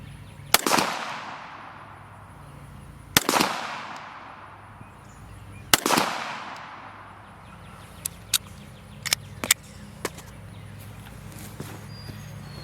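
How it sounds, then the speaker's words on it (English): Three sharp, loud reports from a Canik TP9SF handgun fired prone at 50 yards on a backyard range, spaced a few seconds apart, each ringing out and decaying, followed by several fainter distant cracks. "just doing a little bit of prone shooting, a few little points of interest."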